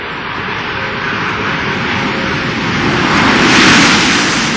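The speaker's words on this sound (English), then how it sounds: "Main gear touchdown." Space Shuttle Discovery landing at main gear touchdown, a loud continuous broadband roar of rushing air and engine-like noise that swells slightly toward the end.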